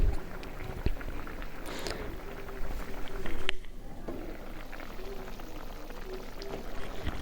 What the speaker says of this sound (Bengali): তো এই যে দেখুন বলক এসেছে।